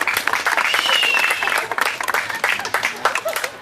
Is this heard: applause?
yes